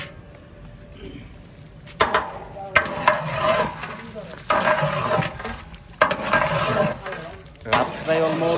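Khichuri with goat head stirred in a large pot at a wedding-feast kitchen at night, with repeated loud scraping and sloshing strokes at irregular intervals over a bubbling background, while people talk nearby.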